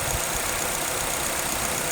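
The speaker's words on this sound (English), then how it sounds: "The engine sounds really smooth" A Mazda 2 engine idles in a steady, even hiss-laden drone, close by and unchanging for under two seconds, with no talking.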